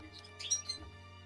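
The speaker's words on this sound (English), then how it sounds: "You hear birds, you hear one singular bird" A single bird chirps in a few brief, faint calls over a steady low hum, with a slightly louder burst near the middle.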